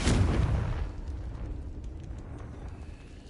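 A Confringo spell explosion in Hogwarts Legacy: a sharp, loud blast at the start that decays into a dull rumbling tail over a few seconds, with no talking over it.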